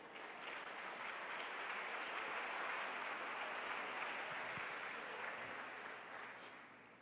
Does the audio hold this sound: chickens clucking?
no